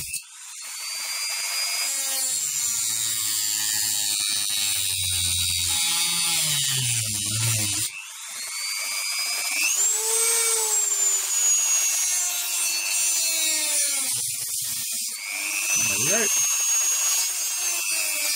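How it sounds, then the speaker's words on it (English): An old Dremel rotary tool cuts tracks into copper clad board, a loud continuous high whine and grinding buzz that shifts pitch as it bites and eases, running close throughout. "that was the old Dremel. We are going to cut the tracks."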